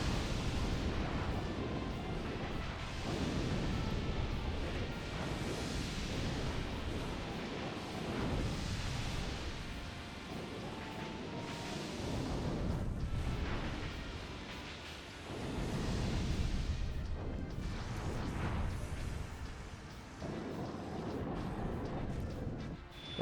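Repeated booming explosions from a strafing attack in the video game Drakengard 2, a dense, continuous rumble of blasts that surges in waves over the whole stretch with no talk.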